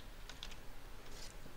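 Soft clicking keystrokes on a computer keyboard, a few quick, faint taps spaced irregularly over a low room hiss.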